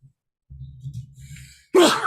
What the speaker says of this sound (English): And that was the only sneeze.